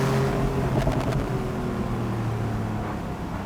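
Steady, sustained engine drone from a Porsche 911 Carrera GTS 991.2 with a manual gearbox, held around mid revs on a winding road, heard from inside with some wind noise and no talk.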